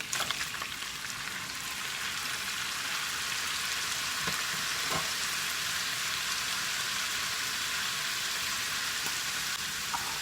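Two chopped green peppers, two tomatoes, five or six garlic cloves and an onion sizzle together in a pot for karnıyarık, a steady, loud frying hiss with faint crackles throughout.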